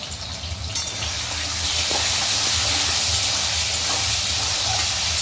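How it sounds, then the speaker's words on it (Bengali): Potatoes, seasoned with salt and turmeric, fry in a pan with a hissing, steamy sizzle that swells after a brief softer start and then stays loud and even, close by. "আলুটাকে আমরা একটু লাল লাল করে ভেজে নেব।"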